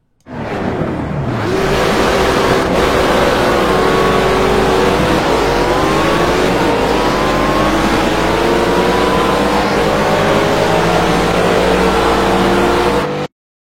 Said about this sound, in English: we are going to be doing a drag race